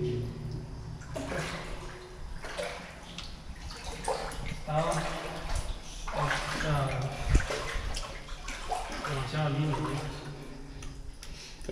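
Water sloshing and splashing as someone wades through a flooded tunnel, with repeated stepping surges under echoing conditions and a person talking throughout.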